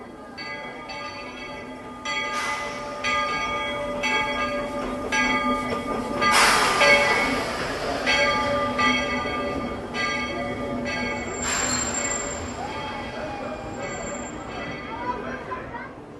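A small theme park train on the Walt Disney World Railroad at Magic Kingdom rumbles along with a bell clanging repeatedly, while people chatter in the background.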